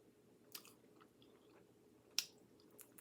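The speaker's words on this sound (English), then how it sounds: "hear that crunch?" Fried barbecue rib bones crunch in a few sharp, close bites separated by pauses, with soft chewing in between and no talk.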